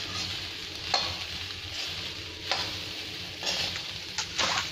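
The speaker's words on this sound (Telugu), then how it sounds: "రైస్ వేసి బాగా మిక్స్ అయ్యేదాకా కలుపుతూనే ఉండాలి" Cooked rice is stirred through a hot pan for hotel-style egg fried rice, a continuous sizzle broken by several sharp scraping strokes of the spatula, close and fairly loud with no talking.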